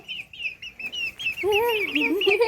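Chickens cluck and call close by, a run of short repeated notes giving way to longer, warbling squawks, with faint background noise.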